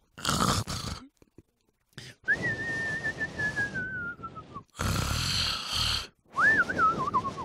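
A man snoring in his quarters in an animated series episode, with a long wavering whistling tone in each breath and low rasping between, recurring in several loud bursts separated by brief pauses.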